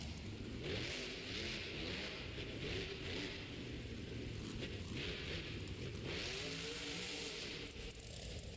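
Monster truck engine at a Monster Jam stadium show in San Diego, revving and roaring continuously as it drives a full lap of the dirt track, loud and steady with crowd-like wash underneath.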